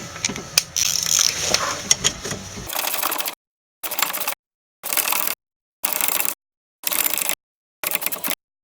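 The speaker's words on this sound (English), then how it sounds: "then ratchet that shit on." Ratchet tightening brake bolts on a 2000 Subaru Impreza during a pad and rotor change: a stretch of continuous clicking, then five evenly spaced bursts of loud, close ratcheting separated by silent pauses.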